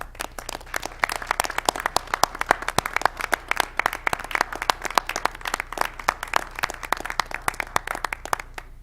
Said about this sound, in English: why don't we give Lou a round of applause.